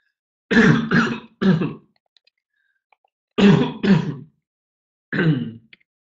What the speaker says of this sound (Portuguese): Peraí que eu engasguei.